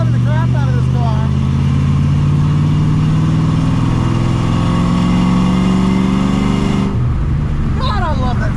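A Roush Mustang V8 rumbles loudly and close on a speedway, a deep steady idle with slight rising revs before the tone drops away near the end, while people talk over it.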